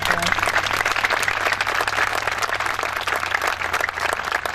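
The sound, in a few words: audience applause for a firefighter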